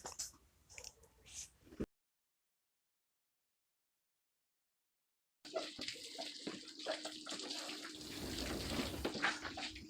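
Water from a hose splashes and runs over a car hood, loud and broadband after a quiet start with a few faint knocks, then a silent stretch before the steady rinsing spray returns.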